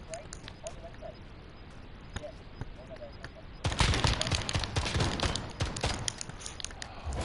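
Rapid bursts of gunfire from the survival video game Rust, loud and dense after a quieter start, with a player's voice talking over parts of the clip.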